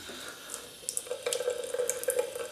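A bathroom tap runs and splashes into a sink during a wet shave with a Merkur Futur razor and Proraso white soap, the close water hiss swelling with irregular spatters.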